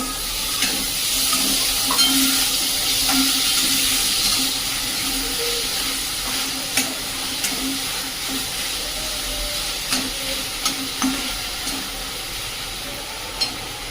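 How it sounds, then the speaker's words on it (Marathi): Onion and finely chopped tomato sautéing in a pan for a homemade cauliflower bhaji, giving a continuous steamy hiss and sizzle with occasional stirring clicks, close and fairly loud, with no talking. "कांदा व्यवस्थित परतून घ्यायचा हा एक बारीक चिरलेला टोमॅटो"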